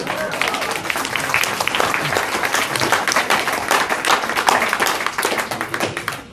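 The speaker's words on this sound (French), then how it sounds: "On peut les applaudir." Wedding guests break into lively applause, a dense patter of many hands clapping at close range that swells and holds, then thins toward the end.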